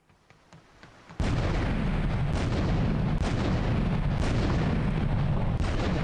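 Gunfire in the Grand Theft Auto 3 video game erupts suddenly after a quiet moment and continues as a loud, dense, unbroken roar of heavy shooting until the end.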